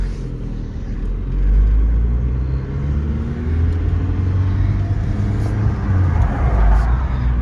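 A manual-transmission VW Jetta TDI with faulty brakes is driven along, giving a steady, loud, low engine and road rumble that swells slightly as it moves, with no talking.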